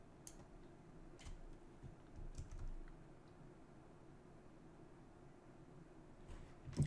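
Computer keyboard keys and mouse buttons click in scattered, light, close-up taps with short pauses between them, over a faint steady room hiss and no voices.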